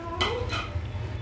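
A spoon stirs carrot halwa with cardamom seeds and dry fruits in a pan, giving two quick scraping strokes over a soft low simmer.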